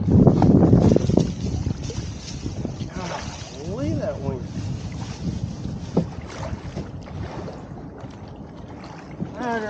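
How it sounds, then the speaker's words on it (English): Wind buffets the microphone on a Tennessee River kayak trip, with a heavy gusty rumble at first that eases into a lower rushing noise, and a voice briefly heard over it. "Golly, that wind."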